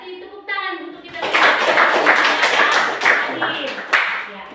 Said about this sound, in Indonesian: Berarti tepuk tangan untuk kita